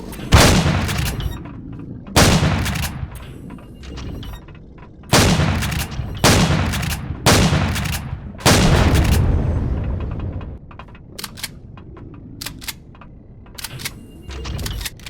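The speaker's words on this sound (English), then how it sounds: "Sniper rifle time." Sniper rifle gunfire in the space survival game Empyrion Galactic Survival: about seven loud, sharp shots spaced a second or two apart, then fainter distant shots and clicks, with no talking.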